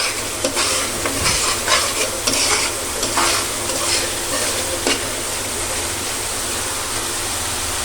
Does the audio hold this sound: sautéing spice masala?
yes